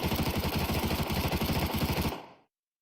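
Rapid automatic gunfire from MP7 and MP5 submachine guns fitted with suppressors in a video game, heard at 1000 units range; a dense, steady rattling burst of about two seconds that then cuts off, with no talking.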